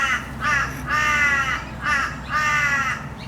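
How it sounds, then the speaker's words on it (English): A Torresian crow gives a series of four or five loud, drawn-out nasal caws in steady rhythm, close and clear with nothing else over it. "That's a Teresian crow."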